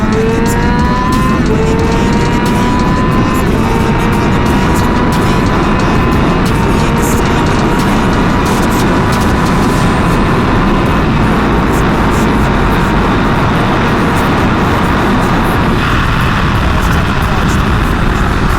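A Yamaha R6 sport motorcycle accelerates hard on an open road, its engine note climbing steadily through the gears for a long continuous pull, loud and close, with wind roar throughout.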